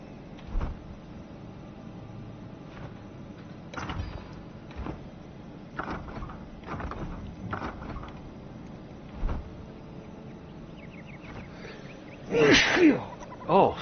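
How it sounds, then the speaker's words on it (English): One sudden, loud human sneeze bursts out near the end, standing out over faint scattered clicks and light background noise. "That sneeze kind of came out of nowhere on me."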